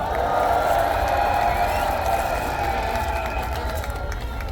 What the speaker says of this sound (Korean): 박수 한번 주십시오, 우리 신 대표님에게.